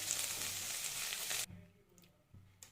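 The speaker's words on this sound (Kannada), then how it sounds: "ಇವಾಗ ಸೊಪ್ಪನ್ನು ಸಹ ಚೆನ್ನಾಗಿ ಫ್ರೈ ಮಾಡ್ಕೊಳ್ಳಿ" Mint leaves fry in a pan for a green chicken biryani masala. A loud, close sizzle lasts about a second and a half, then falls to quiet with a few light clinks.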